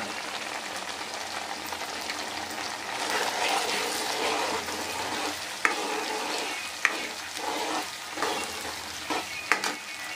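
Prawns frying in hot oil for a preserved prawn pickle, a steady broadband sizzle with stirring scrapes and a few sharp clicks of the utensil against the pan, close and continuous throughout.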